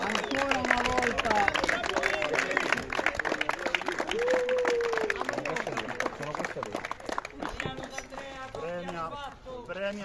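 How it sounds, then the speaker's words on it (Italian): A crowd at an Italian awards ceremony claps for the doubles couple Taliano D'Andrea. The steady patter of applause runs throughout, partly under a presenter's voice and crowd chatter. "Facciamo un grande applauso alla coppia Taliano D'Andrea, ancora una volta."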